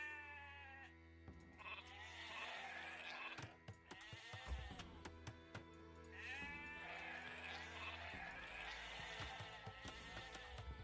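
Sheep bleating in the Age of Empires II video game, several repeated bleats over a steady ambient game background, no talk.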